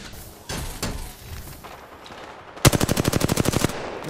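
Gunfire in a ranked online shooter match: a couple of single shots early, then a loud, rapid automatic burst of about a dozen evenly spaced rounds near the end, with no talk.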